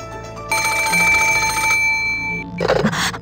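An old-style telephone rings in the Umineko no Naku Koro ni video game, a bright electronic trill sounding in two bursts separated by a short pause, alone with no voices.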